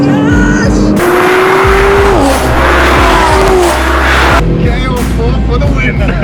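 A stage 1+ BMW F30 335i with the N55 engine pulls hard, its engine note loud and steadily climbing through the gears with a brief shift break, heard close from inside the car.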